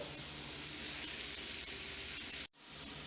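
Sausage sizzles steadily in a hot pan as a soft, even hiss. The sound cuts out sharply near the end.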